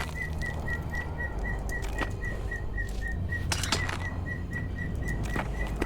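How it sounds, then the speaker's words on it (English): A pet bird gives short, high chirps in an evenly spaced repeating series, moderately close, over a steady background hum with a few sharp clicks. "Oh, my birdie's chirping"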